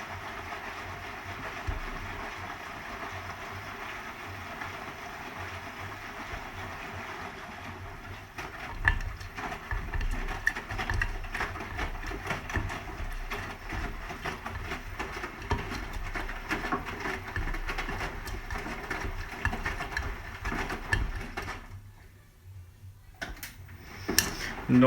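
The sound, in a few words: Hotpoint HE7L492 washing machine drum in distribution at 80 RPM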